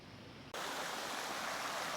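Steady rushing of a stream flowing nearby at a water crossing in Cades Cove, Great Smoky Mountains, starts abruptly and continues as a constant, full hiss with no voices.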